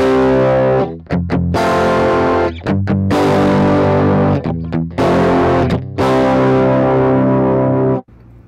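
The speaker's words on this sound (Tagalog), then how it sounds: "Ito naman yung tunog kapag walang amp." Electric guitar played ampless through a Boss IR-2, heavily distorted and loud, with several sustained ringing chords cut by brief choked gaps, then a final chord abruptly muted near the end.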